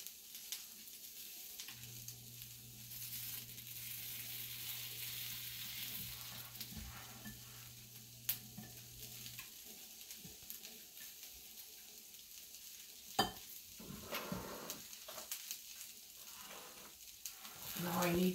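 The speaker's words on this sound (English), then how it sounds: "I'm going to whisk these together." Ingredients are whisked together in a bowl, with faint continuous stirring and scraping over a low kitchen hum and a few soft clinks, quiet and close.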